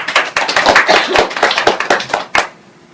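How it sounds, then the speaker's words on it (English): Loud, dense clapping from an audience after a presentation in a conference room, many overlapping hand claps close by for over two seconds before stopping abruptly. "can you give a big applause to the presenter?"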